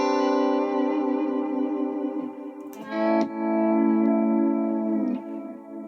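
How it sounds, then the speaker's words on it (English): A sustained guitar chord rises smoothly in volume through an automatic volume swell effect, then fresh notes swell in again, with a washy, echoing, ethereal tone. "It's an automatic volume swell."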